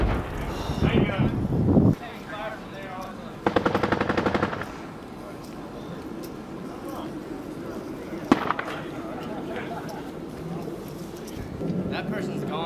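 Bursts of machine gun fire during combat by US Marines in Afghanistan, a rapid rattling string of shots amid wind noise, with people talking around it.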